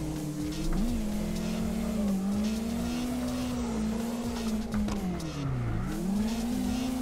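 A drift car in CarX Drift Racer Online, Xbox edition on a wheel, holds a steady high-revving engine drone that rises and dips through the slide, with tire squeal running under it, no voices.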